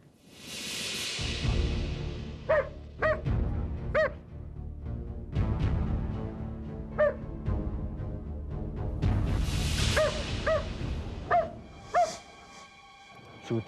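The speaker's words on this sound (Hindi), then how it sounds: "ये यहां क्यों भौंक रहा है?" A dog barks in repeated short, sharp bursts, loud and close, with several quick barks clustered together and pauses between, over a steady low background rumble.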